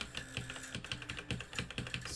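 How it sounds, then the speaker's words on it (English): Rapid, irregular keystrokes on a computer keyboard during a live coding session, a steady clatter of close clicks and taps with no voices. "I'm not having a good time typing today."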